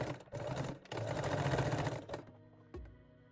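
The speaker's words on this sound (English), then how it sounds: "now I'm switching to straight stitch and I will sew the longer edge" A sewing machine running a straight stitch along the edge of a garter belt closure, whirring close and loud in two bursts, then stopping with a faint click and a thud.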